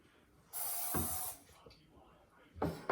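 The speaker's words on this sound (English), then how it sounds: "you spray the pan with some butter spray" A short hissing burst from an aerosol can of butter spray coating a pan, close up, followed by a couple of faint clicks and a second brief spray.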